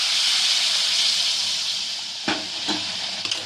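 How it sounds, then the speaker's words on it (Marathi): A broad steamy hiss fills the pot as hot water goes into hot egg curry, followed by a few quick spoon knocks and scrapes, no voices. "ह्याच्यामध्ये टाकण्यासाठी मी गरम पाणी केलेलं आहे तर गरम पाणी टाकायचं आहे"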